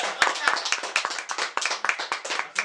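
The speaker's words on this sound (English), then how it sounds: "Can we give a round of applause?" A small studio audience gives a round of applause, dense rapid hand clapping close by and fairly loud, lasting a few seconds.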